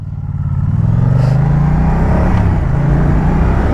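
A Moto Guzzi V100 Mandello motorcycle engine swells from a low idle into a loud, close rumbling acceleration, with a deep throbbing tone that climbs in pitch and holds steady.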